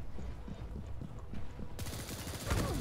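Shotgun blasts and rapid gunfire crack out in a Quake Champions team deathmatch, a burst of repeated shots that ends in a louder, brighter blast near the end.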